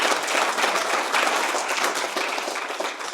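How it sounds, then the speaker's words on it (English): An audience at a university presentation claps together in a dense, even burst that tapers slightly toward the end, with no speech. "Yeah, you can clap."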